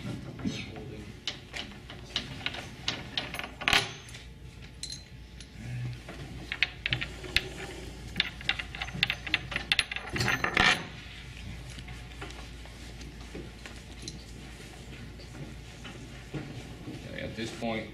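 Bolts come out of a Steinway piano's wooden shipping crate as a series of sharp metallic clinks, rattles and knocks, irregular and close, bunched around a few busy moments with quieter stretches between.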